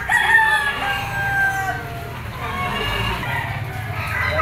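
A gamecock bull stag crows amid a busy fighting-cock market in Lipa, Batangas, its drawn-out call rising over steady crowd murmur and background noise.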